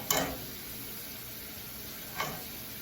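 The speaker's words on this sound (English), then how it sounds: "While these are frying" Steady hiss of potato chips frying in hot oil with a faint high whine, and two brief bursts of louder crackle near the start and toward the end.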